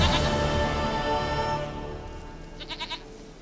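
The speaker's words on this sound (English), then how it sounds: "Goat of mine, dearest, sweetest goat." A goat in The Witcher 3 bleats in a short wavering burst near the end, after a stretch of game music and ambience.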